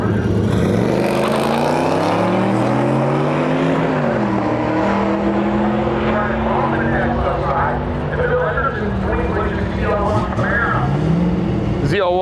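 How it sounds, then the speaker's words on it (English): A sixth-generation Camaro Z01 with a supercharged 650-horsepower LT4 on drag tires, loud and sustained engine roar rising through gear changes with a steady high whine, close and continuous across the run, with a crowd and voices faintly underneath. "6th gen Z01 pulling up to the line right now"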